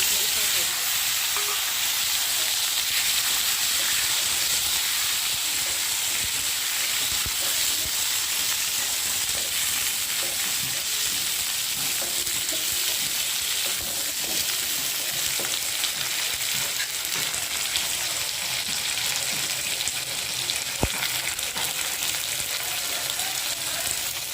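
Vegetables sizzle in hot oil and cumin in a pan, a dense, continuous frying hiss that stays loud and even throughout.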